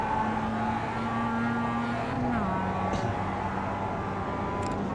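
An onboard Mazda MX-5 race car engine drones steadily at high revs, with a pitch drop as it shifts down midway. It stays loud and constant throughout, with no talking.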